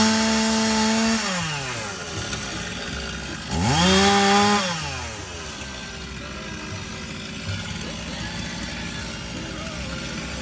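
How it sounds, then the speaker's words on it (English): A small engine on a Chinese mini excavator runs while air is purged from its carburetor, revving up and dropping back twice before settling into a steady, close idle. "It's just purging air out of the carburetor now."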